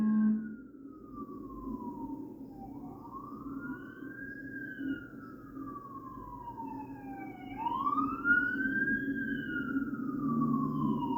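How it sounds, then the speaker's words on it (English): An ambulance siren wails in long rising and falling sweeps, moving past at moderate distance over a low traffic rumble, growing somewhat louder toward the end. "roll an ambulance right in the middle of the scene"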